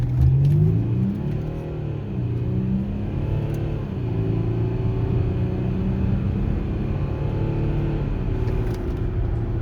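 A 2010 Audi Q7 3.0 TDI diesel engine rumbles and revs as the SUV accelerates, a low steady drone rising in pitch, heard from inside the cabin with no talking.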